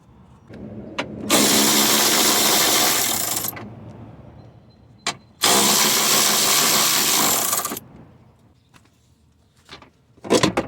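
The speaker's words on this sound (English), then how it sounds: "Next, I'm gonna be removing this 10mm nut here for the same regulator." A power tool removes a 10mm nut from a Lexus ES300 window regulator, with two loud sustained whirring bursts of several seconds each and clicks and small metallic clatter between them, close up.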